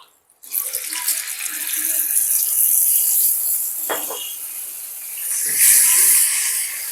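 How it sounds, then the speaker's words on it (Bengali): Grated medium tomato hitting hot oil in a pan with tempered spices for a mustard pabda fish curry, giving a loud, steady hissing sizzle that swells again near the end, with no talking. "টমেটোটাকে একটু ভালো করে ভেজে নেব"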